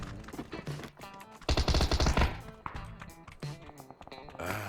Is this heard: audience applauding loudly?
no